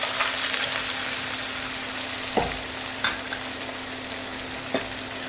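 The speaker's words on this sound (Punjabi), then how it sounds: "ਆਪਾਂ ਇਹਦੇ ਵਿੱਚ ਪਿਆਜ਼ ਪਾ ਦਿੰਦੇ ਆ" Onions fry in hot mustard oil for a sarson da saag tempering, a constant bright sizzle with a few sharp clinks of a spoon against the pan, and no voices.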